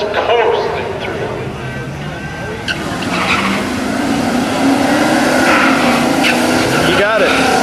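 A pickup truck racing a McCormick tractor, with a loud, close engine and tire noise that rises and falls, under a crowd's excited chatter.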